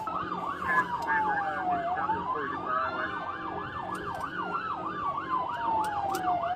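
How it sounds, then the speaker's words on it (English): Police sirens wail during a slow chase of a stolen piece of heavy machinery, a rapid yelp cycling over a long rising and falling wail, steady and moderately near with road noise beneath. "With only emergency lights flashing and sirens blaring"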